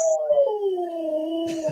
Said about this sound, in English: I thought I heard a dog howling.